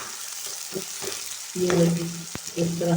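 Onions sizzle in hot oil with whole spices, a steady close frying hiss broken by stirring scrapes, while a person speaks briefly over the cooking.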